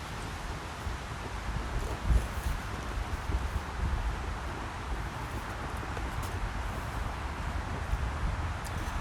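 Wind blows steadily outdoors on a cool evening. It makes a constant broadband rush and rustle with gentle gusts, and there is no talking.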